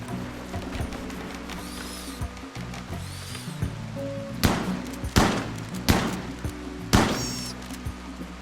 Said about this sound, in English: Hunting with a shotgun.